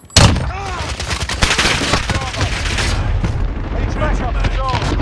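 Video game gunfire: rapid bursts of shots and booms from the start that continue throughout, loud and close, with players talking over the shooting.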